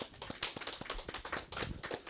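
A church congregation claps during a Sunday worship service: quick, rhythmic claps repeating steadily, heard faint and somewhat distant.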